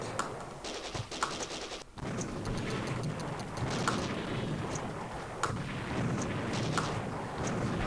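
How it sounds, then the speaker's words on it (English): Rapid gunfire pops and bursts from a Windows 98-era shooter game, with sharp reports repeating irregularly over a dense, steady battle din. "somebody's shooting at me"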